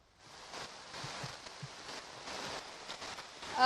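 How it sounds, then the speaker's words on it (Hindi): Heavy monsoon rain falls in Maharashtra as a steady, fairly faint broadband hiss of drops that swells slightly toward the end, with no voices. "मतलब बहुत तेज़ बरसात हो रही है।"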